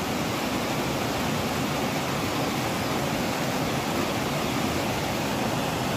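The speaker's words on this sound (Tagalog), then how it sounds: "Doon yung sapa o." A creek flowing during heavy flooding, a steady, dense rush of water that stays loud and unbroken throughout with no other sounds over it.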